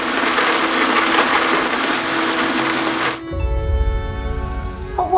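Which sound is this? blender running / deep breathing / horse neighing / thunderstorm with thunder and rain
blender running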